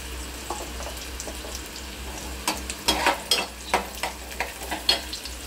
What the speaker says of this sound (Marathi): कांदा पूर्ण लाल भाजू द्यायचा। त्यामध्ये थोडीशी हिंग पावडर टाकायची।